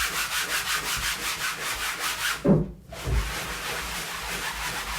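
Steady rhythmic scrubbing of a gritty bathtub floor, rasping back and forth like a saw, with a brief pause partway through before the scrubbing resumes.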